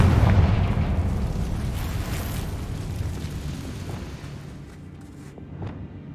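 A Confringo fire spell explodes in Hogwarts Legacy, a loud deep boom at the start that rolls out into a long rumbling decay, fading gradually over several seconds with no voice.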